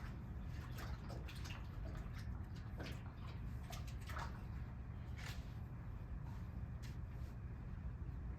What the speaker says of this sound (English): Excuse me a minute while I clean up and wash my hands